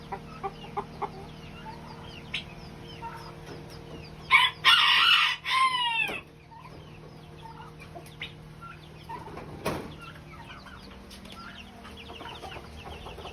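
Black American Silky chickens at a fancy chicken farm, with a loud close crow in the middle and scattered soft clucks and chirps before and after over a steady low hum.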